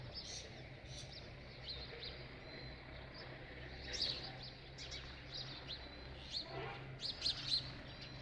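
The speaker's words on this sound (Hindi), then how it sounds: "सूर्योदय हो रहा है और पंछियों के चहचहाने की आवाज़ें तो सुनिए।" Birds chirp and tweet at sunrise on a cold winter morning, with scattered high calls close and far. They come in irregular bursts over a low steady background hum.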